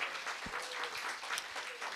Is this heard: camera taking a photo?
no